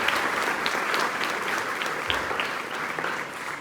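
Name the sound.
applause for the maker of an idol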